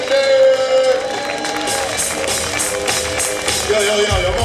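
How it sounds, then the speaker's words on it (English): Audience at an outdoor comedy night in Linden clapping and cheering steadily for a comedian taking the stage, a dense crowd roar with music in the mix and no clear talk. "clap your hands for our next comedian coming to the stage"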